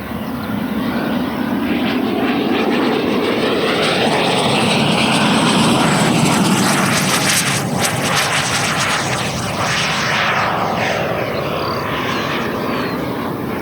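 A Black Horse Viper XL model jet on a 14S battery drives a 100mm WeMoTec Midi EVO electric ducted fan with a deep, loud, steady whine and roar, the pitch shifting slightly as the throttle varies, close and continuous with no talking.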